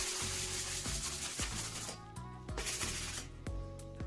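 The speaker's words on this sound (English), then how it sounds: "If you haven't cleaned your tool, you can easily do so with a sanding pad." A sanding pad scrubbing dried compound off a drywall finishing tool, steady close rasping and rubbing strokes with rhythmic back-and-forth pulses, no talking.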